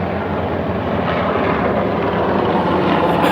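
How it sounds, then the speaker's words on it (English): Two helicopters pass overhead above the Potomac River on a night of catfish fishing, their rotor and engine noise a loud, steady drone that holds throughout. "Got two choppers."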